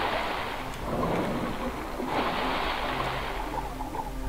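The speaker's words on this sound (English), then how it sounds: "There's a loud splashing." Loud, continuous water splashing fills a horror video game scene in Spooky's House of Jump Scares, a dense broadband wash with slight surges and no speech.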